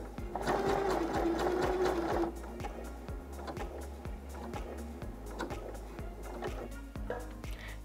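An Elna sewing machine stitching a buttonhole, its needle ticking in a fast regular rhythm over a steady motor hum, close and clear, with a brief louder whirring burst at the start.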